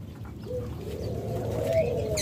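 A dove coos softly among pet birds kept for sale, a low, faint call heard close over a quiet background with a brief higher chirp near the end.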